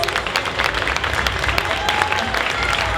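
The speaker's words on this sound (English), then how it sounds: "Big applause for Trine, please." An audience at a DreamHack Winter 2022 cosplay show claps and applauds steadily, a dense sustained patter of many hands with some crowd murmur.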